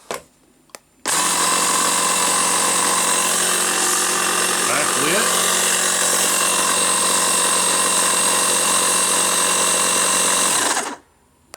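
A Wolfbox MegaFlow 2 rechargeable tire inflator air pump runs as a loud, steady, close-up mechanical buzz with a dense whine for about ten seconds, starting abruptly after a couple of clicks and cutting off sharply at the end.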